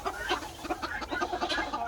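A hen clucks inside a coop during egg collection, a close run of short, rapid throaty clucks in an uneven rhythm, with faint background noise.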